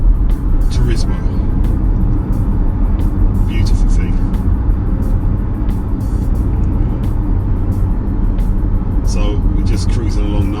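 A 2018 Porsche Panamera 4 Sport Turismo cruises with a steady, loud low road and engine rumble inside the cabin, while a voice talks over it throughout.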